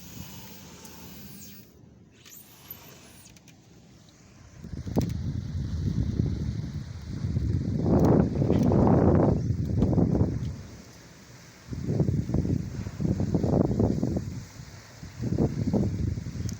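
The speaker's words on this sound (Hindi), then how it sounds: "ये बारिश की हवा की आवाज़ आप लोग सुनें कि कितनी ज़ोर से हवा चल रही थी" Strong wind from a rainstorm roars in repeated heavy gusts, surging and easing every few seconds with a low rumbling buffet against the microphone, no voices.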